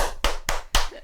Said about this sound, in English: I feel like that clap is like the